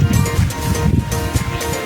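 Surf washing and rolling continuously along Anjuna beach, with waves breaking close by and steady wind noise on the microphone throughout.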